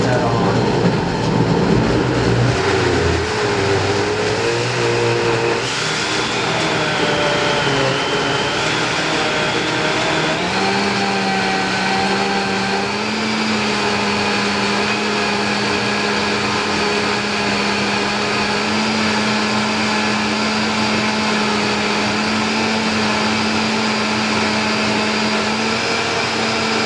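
A countertop blender running on its lowest setting, whirring steadily as it blends fruit and vegetables into a juice shake, with a loud continuous motor drone whose pitch shifts and settles several times.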